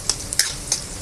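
Chopped onion and garlic sautéing in a hot pan for lumpiang sariwa, a steady close sizzle with a few quick stirring scrapes.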